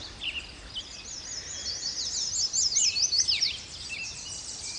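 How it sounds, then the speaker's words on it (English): Song sparrows and yellow warblers sing at Martin's Landing in the Fort Boise Wildlife Management Area, bright chirping phrases rising and falling at a moderate distance over a soft outdoor hush, busiest in the middle of the stretch. "Mostly song sparrows and yellow warblers,"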